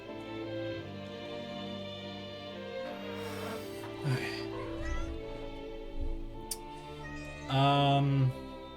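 A cat meows during a Triangle Strategy game session, with a few short meows including a louder, clearer one near the end, sounding over game music and background sound.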